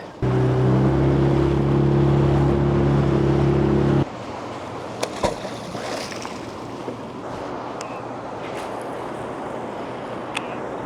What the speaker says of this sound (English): my trolling motor is stuck on the continuous setting